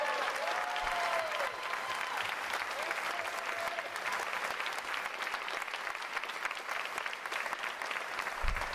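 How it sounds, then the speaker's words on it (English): Sustained applause from a crowd at a U.S. Navy ROTC graduation ceremony, steady and fairly even for the whole stretch, heard from a distance in a large hall with a faint tonal whistle early on. "You can give it a round of applause."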